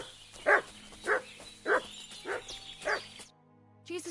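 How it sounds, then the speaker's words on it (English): In the game Kingdom Come: Deliverance 2, a dog barks five times at an even, steady rhythm, fairly close, before a short pause and the start of another bark. "You silly doggy."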